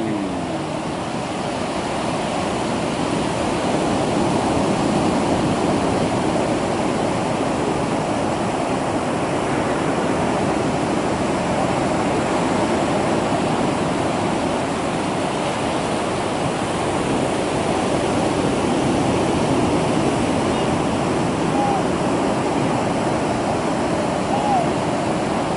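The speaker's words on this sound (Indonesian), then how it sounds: "Ombak datang, ombak datang." Steady roar of ocean surf washing onto a beach where traditional fishermen haul a beach seine net, loud and continuous throughout with no distinct breaks.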